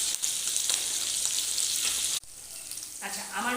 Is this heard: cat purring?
no